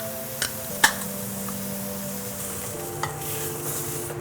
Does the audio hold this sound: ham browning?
yes